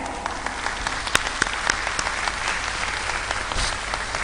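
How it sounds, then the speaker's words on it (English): An audience at a public forum on electoral reform gives a round of applause, a steady patter of clapping from a moderate-sized crowd with a few sharper, closer claps standing out. "And we should actually give her a clap."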